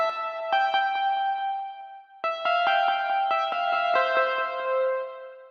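A distorted, heavily EQ'd synth in a melodic dubstep track made in Bitwig Studio plays repeated plucked notes through a delay effect, so each hit echoes and overlaps. The notes break off briefly around two seconds, then resume denser and sustained.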